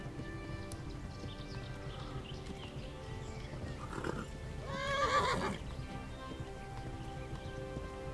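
A horse ridden cross-country in the video game Kingdom Come: Deliverance, giving a clear whinny midway over a faint steady background of hooves and rain-like ambience, quiet overall with no talking.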